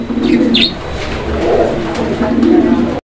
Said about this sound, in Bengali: খুব সুন্দর কবুতরটা, অরিজিনাল অ্যালমন্ড কালার